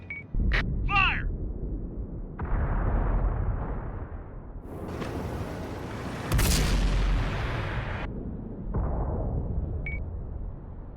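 Heavy tank guns fire in World of Tanks gameplay on Xbox with a BC-155-55, several loud booming shots with long rumbling tails spaced across the stretch, plus brief game interface beeps and no talk.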